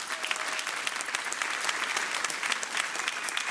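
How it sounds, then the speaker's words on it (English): A conference audience at a blockchain summit gives the award nominees a steady round of applause, dense clapping from a large room that holds an even level for several seconds with no talking over it. "let's have all our nominees a round of applause if we can"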